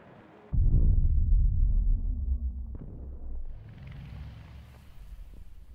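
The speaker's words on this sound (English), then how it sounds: "Oh, the missile." Missile in Battlefield 2042 hitting with a sudden heavy low rumble that swells, holds for a couple of seconds and slowly fades into a quieter rushing, wind-like tail.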